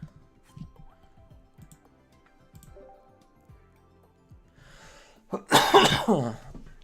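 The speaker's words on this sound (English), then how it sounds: "Coughing, dying." Quiet clicks and faint background sounds, then a sudden burst of harsh, loud coughing near the end.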